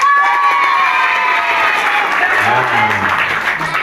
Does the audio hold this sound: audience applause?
yes